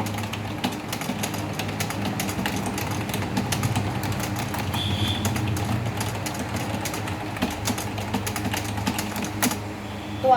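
Computer keyboard keys clack in a fast, fairly even stream of crisp taps during Hindi typing practice, over a steady low hum, with no voices.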